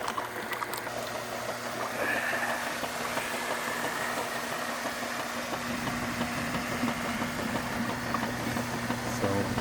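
A Kenmore washing machine drain pump hums steadily with a low mechanical drone and faint vibration, running on without letup and fairly close.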